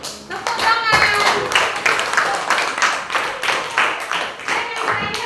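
Rhythmic group clapping fills a classroom, steady and fairly loud throughout, with children's voices mixed in beneath it.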